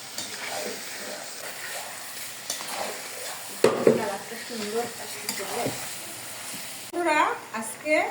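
Two kilograms of goat meat cook in a pot over a stove, giving a steady sizzle with stirring scrapes, and a voice speaks over it near the end.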